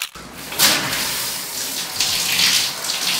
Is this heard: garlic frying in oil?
no